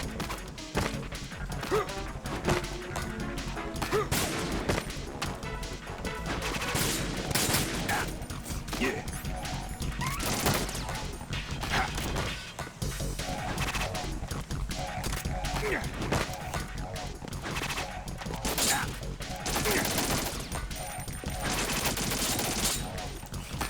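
Gunfire in Metal Gear Solid 2, a dense, continuous stretch of shots, impacts and clattering mechanisms, loud and busy throughout with speech faintly under it.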